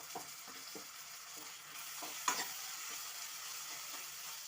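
Tomato pieces sizzle softly in a pan with ginger for gongura dal curry, with faint oil crackle and a few light scrapes of a stirring spoon throughout, quiet and close.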